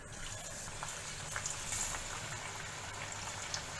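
Potato pakoras (aloo bhajia) frying in hot oil in a kadai, a steady close bubbling hiss that runs continuously with no voices.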